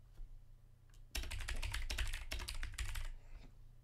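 Someone types a message to a site manager on a computer keyboard during account sign-up: about two seconds of fast, dense key clatter over a low room hum, after a quiet start, with no voices.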